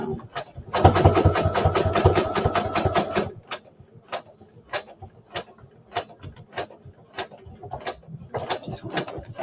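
Sewing machine stitching around the edge of a fabric bowl cozy: a fast, even run of close mechanical ticks for a few seconds, then slower scattered clicks and taps as the stitching stops and starts.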